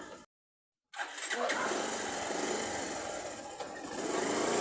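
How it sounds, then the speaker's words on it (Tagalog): A motorcycle engine cranks after a brief silence, then catches and settles into a steady, loud running idle close by. "Sakay na kami sa motor."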